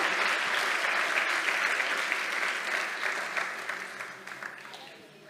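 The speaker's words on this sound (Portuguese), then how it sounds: "Agora pode aplaudir" A congregation applauds steadily during a church service, a dense, sustained wash of many hands that thins and softens toward the end, with scattered individual claps standing out.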